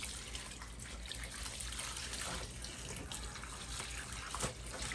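Tap water runs steadily into a washbasin at home, a continuous close splashing trickle with no voices over it.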